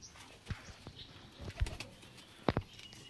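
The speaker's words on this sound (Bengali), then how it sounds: "মালবাই পায়রা ভালো লাগে" Malbai pigeons in a loft give soft, low coos amid scattered wing flaps and shuffling, with a couple of sharper close knocks, fairly faint and without talk.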